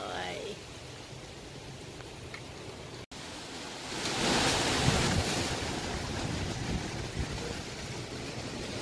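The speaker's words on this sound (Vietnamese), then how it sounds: "gió quá gió vườn chuối bên đây nha bị ngã rồi" Strong wind before rain roars and buffets the microphone in a constant broadband rush through a banana garden, growing noticeably louder about halfway through.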